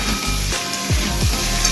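Spices and potatoes stirred in hot oil for a vegetarian aloo dum: a steady sizzle throughout, with a few scraping stir strokes near the middle and end.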